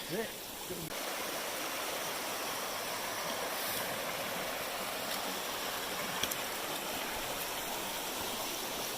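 Creek water on the Appalachian Trail rushes in a steady, broadband roar, loud and continuous throughout with no breaks.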